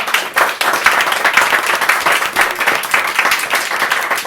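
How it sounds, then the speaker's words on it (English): Loud, close applause breaks out at a December poetry open mic, with dense individual claps in an uneven rhythm over roughly four seconds. "Can we give one more quick round of applause"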